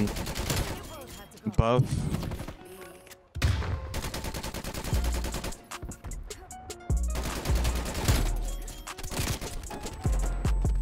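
Gunfire from an underbarrel grenade launcher class gun in Call of Duty Cold War, bursts of rapid automatic fire broken by short pauses and a sharp blast, loud and close, with a player talking over it.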